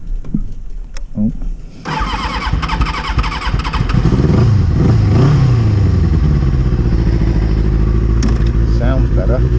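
A Kawasaki ZX6-R sport motorcycle, just given spark work, cranks and fires up, then revs hard with rising and falling engine pitch close by. Brief speech comes before the start and again near the end.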